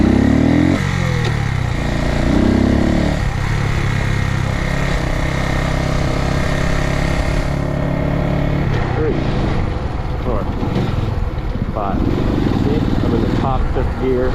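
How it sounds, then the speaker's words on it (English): A Suzuki TU250X motorcycle engine lugs in top fifth gear at about 25 mph, a steady low thrum heard from the rider's seat with wind noise, continuing throughout while someone talks over it. "Top fifth gear at 25 miles an hour. It's lugging a little bit, but you know you're in top."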